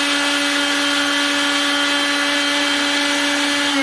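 A Makita RT0701C router runs continuously up close, giving a steady high-pitched whine with strong constant tones and no pauses.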